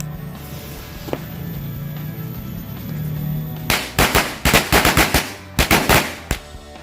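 A rapid string of loud bangs from blue color-smoke matchstick firecrackers lit in a water gallon crackles off in two bursts after a stretch of quiet outdoor background.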